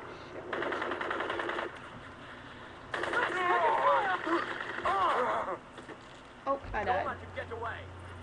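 Gunfire from the PC game Crysis, played on a Dell Studio 15 at medium graphics, comes as bursts of rapid automatic fire and rattling shots, with a voice talking over parts of it.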